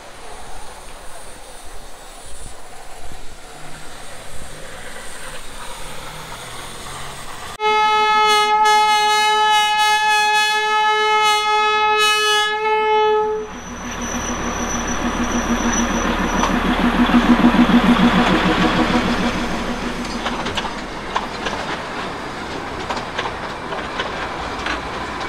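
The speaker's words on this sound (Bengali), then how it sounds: "এই ট্রেনটা এখনই ঢুকলো দার্জিলিং স্টেশনে।" A Darjeeling toy train hauled by a coal-fired steam engine arriving at Darjeeling station: a loud sustained whistle blast, then a rising chuffing rumble and rail clatter that swells as it draws near, with background station noise.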